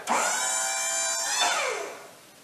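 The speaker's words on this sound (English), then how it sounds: "Then I'm going to raise the clamp" The clamp on a Wood-Mizer LT40 sawmill rises with a steady hydraulic motor whine, a sustained tonal hum that shifts pitch midway and then winds down, close and alone.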